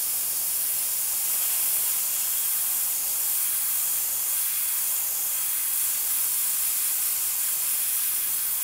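An AK 0.3 airbrush spraying paint, a continuous close, loud airy hiss holding steady throughout with no pauses and no voices.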